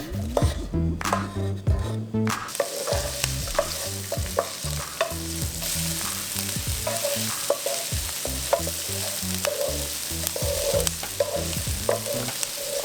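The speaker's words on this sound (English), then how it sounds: "Let's go ahead and start caramelizing our onion." Onions caramelizing in a pan give a soft continuous sizzle, broken by repeated scraping and tapping strokes of a spoon stirring against the pan, close and fairly quiet with irregular rhythm.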